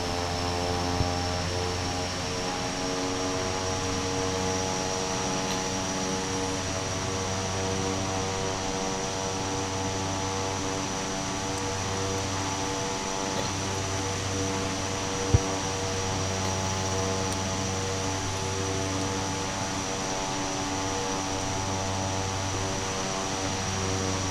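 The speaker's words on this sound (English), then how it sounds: "I'm not quite sure where we're meant to park this aircraft." Cessna 408 SkyCourier taxiing in Microsoft Flight Simulator, a constant droning turboprop hum with a low pulsing throb repeating every few seconds, steady and close with no talk.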